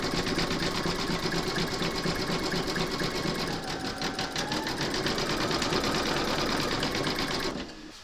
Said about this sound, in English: stitch round number 5, and that's going to do the zigzag stitching around the raw edge